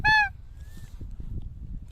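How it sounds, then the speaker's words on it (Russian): A single loud goose honk rings out at the start, from a flock passing during a spring hunt in the Komi Republic, then trails off into faint outdoor rumble. "Вот это гуси все."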